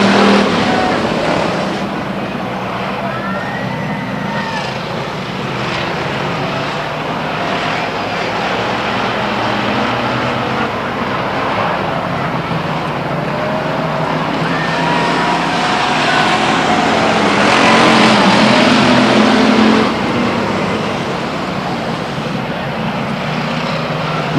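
Race cars circling the oval at Stockton 99 Speedway during a 2001 race, a steady broad roar of engines from the field with rising and falling passes, loudest near the end, faint crowd and announcer presence beneath.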